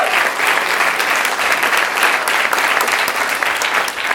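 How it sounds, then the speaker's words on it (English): Vigorous, full-bodied applause from a seated audience, loud and unbroken with a dense crackle of many hands clapping at once. "give her a round of applause"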